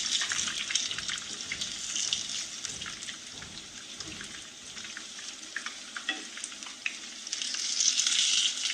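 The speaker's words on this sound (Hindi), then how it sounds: "फ़िश हमारी बाकी की फ्राई हो रही है" Fish frying in hot oil in a home kitchen, a steady bright sizzle with crackling pops that continues throughout, rising slightly louder near the end, with no talking.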